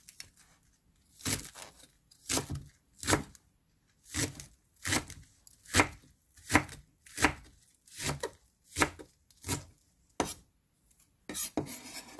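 White parts of green onions chopped on a cutting board with a knife, about a dozen distinct close knocks in an uneven rhythm with brief pauses between, no voices.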